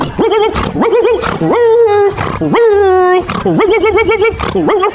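A voice imitating a pit bull's drawn-out, howling bark, repeated several times in loud, wavering yelps close to the microphone.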